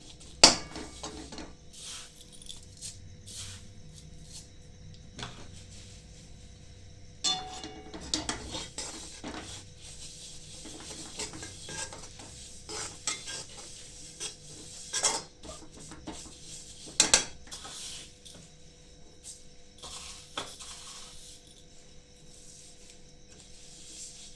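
Sesame seeds for tal laddu stirred in a pan, with scattered close metallic scrapes, clinks and taps of a spoon against the vessel, irregular and fairly quiet over a near-silent background.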